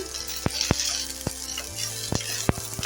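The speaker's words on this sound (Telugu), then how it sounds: "ఇప్పుడు వెల్లిగడ్డ వేసుకుంటున్నా కొద్దిగా జీలకర్ర ఇలా వేసుకొని బాగా ఫ్రై చేసుకోవాలి" Garlic, cumin seeds and green chillies fry in hot oil for a sorrel leaf chutney, a steady close sizzle broken by several sharp spoon-on-pan clicks as the mixture is stirred.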